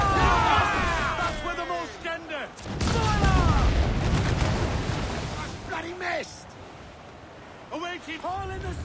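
Ship cannons fire in volleys during a naval battle in Assassin's Creed IV: Black Flag, with heavy booms and broad rumbling blasts spread through the clip while voices shout over the noise.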